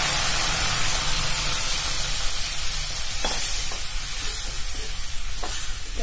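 Tomatoes dropped into a pan of frying garlic and chili for a sweet tomato chutney, giving a steady broadband sizzle with stirring and a few light scrapes and clinks, close and continuous, with no talking.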